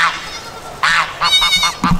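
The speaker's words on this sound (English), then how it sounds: "The geese are being quite loud." Several geese honk loudly nearby in repeated bursts, the nasal calls overlapping and stopping briefly between calls.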